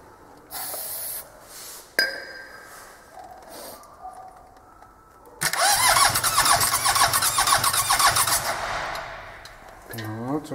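A rebuilt car engine mounted on a pallet before installation gets its second start attempt: short bursts and clicks, then a loud, sustained grinding crank with a hissing, spraying edge lasting several seconds, and a squeal near the end.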